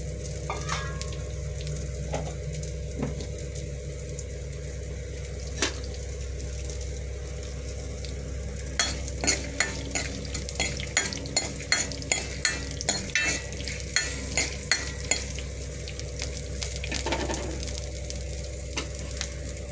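Oil sizzling steadily in a pan, with a burst of sharp crackles and pops in the middle as mustard seeds, fenugreek and dried red chillies spit and fry for rasam; no talking.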